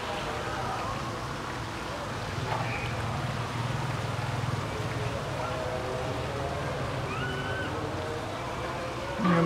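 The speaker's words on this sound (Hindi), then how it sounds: "बरसात जोर और शोर के साथ शुरू हो चुकी है।" Heavy rain pours down in Karachi, a dense, steady hiss of water drumming on surfaces that stays constant and close throughout.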